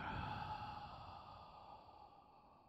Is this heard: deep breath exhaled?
yes